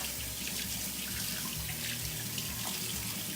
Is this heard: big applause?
no